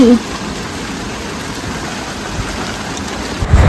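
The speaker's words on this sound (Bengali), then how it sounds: "এখনকার বৃষ্টি" Steady rain falls throughout, a constant wash of drops on surfaces, close and moderately loud, with a brief louder burst at the very start and end.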